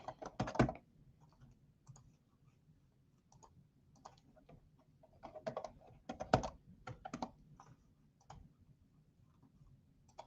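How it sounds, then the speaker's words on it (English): Computer keyboard keys, arrow keys, pressed in scattered clicks, some in quick clusters and others single taps with pauses between, close and fairly quiet, no talking. "Arrow keys on the keyboard give you the preview here"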